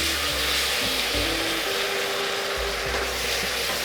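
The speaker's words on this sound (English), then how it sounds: "all of that cooking wine to deglaze" A hot pan deglazed with cooking wine while making Taiwanese beef noodle soup, producing a loud, continuous broad sizzle and hiss with faint low rumbles underneath, close up and without pause.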